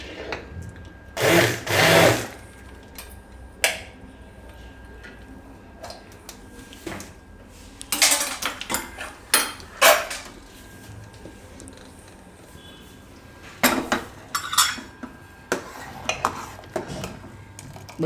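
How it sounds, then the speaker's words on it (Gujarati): Dal palak sambar stirred in a metal pot, with bursts of spoon scraping and clanking against the sides in irregular strokes, close and fairly loud between quieter pauses. "આ રીતે ફેરવી દે એટલે બધું એકરસ થઈ જાય."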